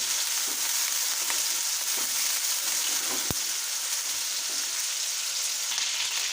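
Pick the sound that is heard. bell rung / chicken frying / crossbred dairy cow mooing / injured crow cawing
chicken frying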